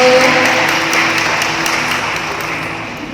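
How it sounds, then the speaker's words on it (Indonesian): An audience at a talk applauds in a loud, continuous wash of clapping that stays steady and slowly tapers over a few seconds. "Tepuk tangannya untuk Bayi."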